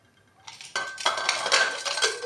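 Metal lid of a pressure cooker holding rice being handled and closed on a gas stove, with a few close clanks and scrapes of metal on metal and no talking.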